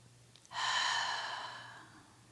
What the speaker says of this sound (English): Let's take a couple more breaths here.